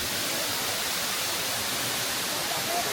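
A waterfall roars steadily and close by, a dense unbroken rush of water that fills the whole short stretch.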